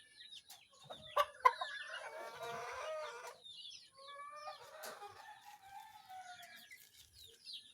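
Chickens cluck in a lively flock at a close range, their overlapping calls bunched into a busy burst early on and then trailing off into scattered softer clucks, with faint crowing-like notes mixed in.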